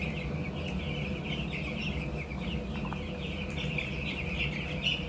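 Broiler chickens on a farm cluck and chatter continuously at a low level, a soft, steady flock murmur with occasional sharper calls against a constant background hum.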